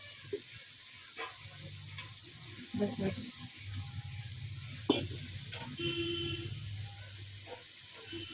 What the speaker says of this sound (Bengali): আলুগুলো দিয়ে কষাচ্ছি